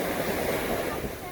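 Surf at Ocean City breaking and washing up the beach during surf fishing, a steady broadband roar with wind buffeting the microphone and no clear individual wave crashes.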